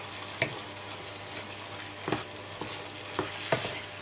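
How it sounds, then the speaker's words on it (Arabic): Minced meat mixture for a hachis parmentier stirred in a pan: soft scraping strokes of a utensil at irregular intervals over a low, steady sizzle, fairly quiet, no talking. "غادي نحرك كلشي، نخلطو يتخلط مع بعضو"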